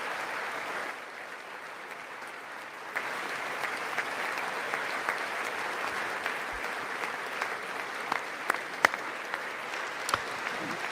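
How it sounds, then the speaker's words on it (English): Sustained applause from the audience at the 2026 State of the Union, a dense even roar of clapping lasting throughout, with a few sharper claps standing out near the end. "Stand up and applaud for these people."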